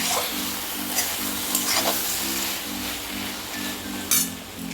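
Cauliflower-stalk chorchori sizzling and frying in a pan as bori are added, with a steady close hiss broken by repeated soft stirring scrapes and a brief clink near the end.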